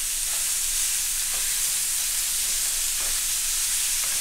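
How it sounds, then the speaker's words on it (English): A pound and a half of 80/20 ground chuck hamburger meat frying in a pan on medium heat, giving a steady, even sizzle throughout with no voices. "To that, I'm adding a pound and a half of 80/20 hamburger meat, ground chuck"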